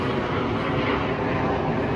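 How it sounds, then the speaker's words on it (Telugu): Fighter jets flying overhead near a beach on the way to Destin, a steady, loud, broad roar that holds for the whole stretch without a break. "ఫైటర్ జెట్ అది చాలా తిరుగుతున్నాయి ఇక్కడ."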